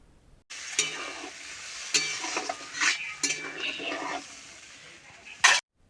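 A potol and prawn curry is stirred in a pan, with a low sizzle under repeated scraping and clanking of a utensil against metal, close by, in uneven bursts ending in one sharp knock.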